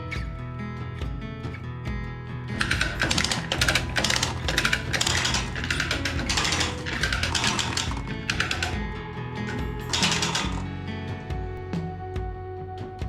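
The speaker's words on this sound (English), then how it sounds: "Welding." Welding on a budget car exhaust: dense, sputtering crackle in repeated bursts of a second or so, loud and close, with brief pauses between passes and no talking.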